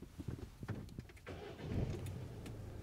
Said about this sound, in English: So if Roddy starts the engine up